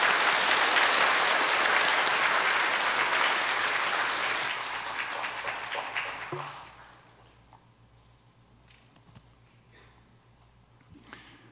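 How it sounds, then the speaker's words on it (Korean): Church congregation applauding during a Sunday worship service to welcome a visiting pastor, a loud sustained burst of clapping for about six seconds that then fades away to quiet room tone. "박수로 환영하겠습니다."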